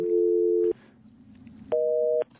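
Telephone busy signal on a call to a disconnected number: two clean steady tones, each lasting under a second, separated by a short silence, loud and alone on the line.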